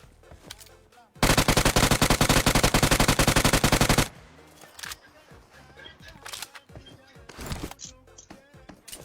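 Rapid automatic gunfire from a video game rattles loud and close in a nearly three-second burst, followed by scattered lighter shots and game noises with voices talking over them.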